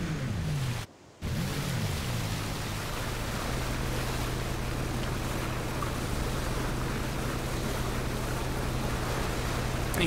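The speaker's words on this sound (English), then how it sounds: "It's just the ocean and an airplane." Steady ocean waves wash in a PUBG match with an airplane droning low and constant underneath, a continuous broad rush broken once by a brief dropout.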